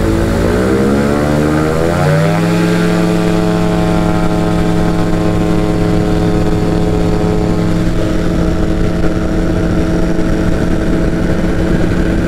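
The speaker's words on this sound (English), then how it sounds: "we're lining up on 11 and we're going to depart off to the south" A light propeller aircraft takes off from runway 11, its engine loud and close, building from a rising drone into a steady full-power roar that fills the whole stretch.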